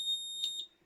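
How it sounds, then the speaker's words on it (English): A buzzer in a simple electric circuit wired in parallel with a bulb, giving a short steady high-pitched electronic tone for under a second before it cuts out, fairly faint and alone. "you can hear and you can see that our buzzer works"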